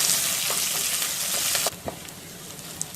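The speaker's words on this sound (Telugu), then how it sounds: "కరివేపాకు, ఉల్లిపాయలు, పచ్చిమిరపకాయలను వేసుకోవాలి. వీటిని కొంచెంసేపు వేయించుకోవాలి." Curry leaves, onions and green chillies fry in hot oil for a drumstick-leaf coconut curry, a loud steady sizzle that drops sharply partway through, with a few clicks from the pan and no talk.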